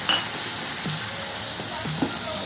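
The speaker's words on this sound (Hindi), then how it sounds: "सबको थोड़ी देर हम फ्राई कर लेंगे।" Onion with ginger, garlic and chili fries in a pan, a steady close sizzle with faint stirring scrapes.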